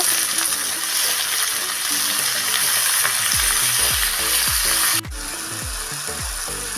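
Tomatoes fry in a pan for an eggplant and tomato bharta, making a dense, constant sizzle up close, with a sudden drop in level near the end as the frying quiets slightly.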